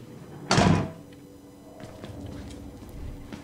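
A door shuts in the horror game Outlast with one loud, close thud and a short rumble, followed by quiet room tone and faint scattered ticks.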